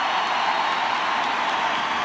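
Football stadium crowd applauding Neymar, a steady dense wash of distant clapping and crowd noise holding at an even level throughout, with no voice over it.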